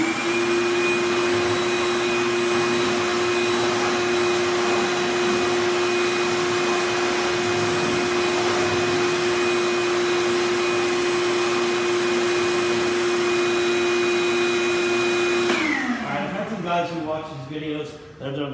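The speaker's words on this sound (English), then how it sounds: "I'm going to go ahead and vacuum that up here." A vacuum cleaner with hose attachment runs steadily and loud with a constant whine, sucking up debris left from cutting a drone frame, then powers down and winds off near the end.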